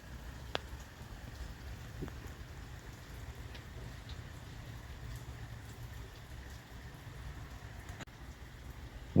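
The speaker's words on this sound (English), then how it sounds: "This is the backyard, still raining lightly, but not quite as heavily as it was before." Light rain falling steadily in a backyard in Ottawa in July: a soft, even hiss of drizzle with a few scattered, distinct drips tapping nearby.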